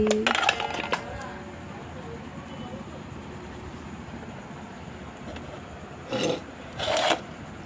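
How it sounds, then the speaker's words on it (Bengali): Vegetarian khichuri and fried vegetables being served onto a plate, with quick metallic clinks of utensils at the start and two more scraping clatters near the end, over a quiet, steady room hiss. "এখন খাবারটা বেড়ে নিচ্ছি।"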